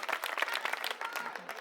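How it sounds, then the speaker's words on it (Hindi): Crowd clapping at a Delhi election rally in Model Town, a short burst of brisk, fairly faint applause from the audience with a murmur of voices. "इसके लिए ताली बजा दो पहले।"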